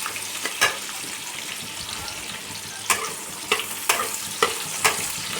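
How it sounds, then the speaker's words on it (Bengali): Onions fry lightly in a pan with a steady, close sizzle, punctuated by several sharp spatula scrapes and taps at irregular intervals. "পেঁয়াজটা হালকা পুড়িয়ে ভাজবো না, হালকা ভাজা হচ্ছে"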